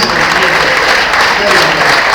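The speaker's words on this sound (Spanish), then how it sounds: "Un aplauso al Señor, por favor." Loud, close applause from a church congregation during a sermon, a dense wash of steady clapping that continues throughout.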